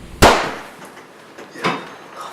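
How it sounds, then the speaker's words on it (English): Two sharp gunshot bangs about a second and a half apart, each with a short echoing tail over a constant noisy background. "That's gunfire."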